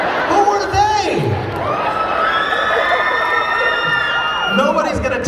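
A fan convention audience screams, whoops and cheers loudly and continuously, with high shrieks rising and falling across the crowd, close and dense throughout.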